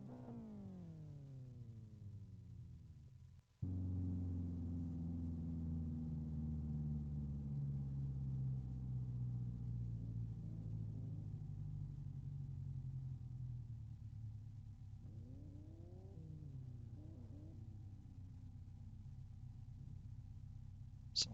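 Race car engines rumble and idle on the starting grid in the Live for Speed racing game, with several cars humming together, pitch rising and falling under revs after a brief cut near the start, steady and fairly loud throughout.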